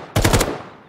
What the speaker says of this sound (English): I hear AK still.